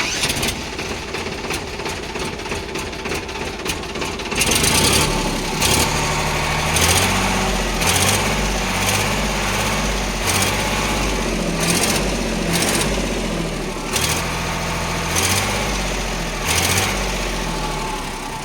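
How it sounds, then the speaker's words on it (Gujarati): A Sonalika DI 60 tractor engine runs, loud and close, after a noisy stretch at the start. It settles into a steady, rough diesel idle with rhythmic pulsing. "હવે આપણે એન્જિનને સ્ટાર્ટ કરીને જોઈ લઈએ."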